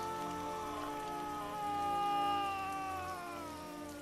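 Rainfall in the video game Heavy Rain, a steady hiss of drops on surfaces under sustained tonal music that swells midway, with no talking.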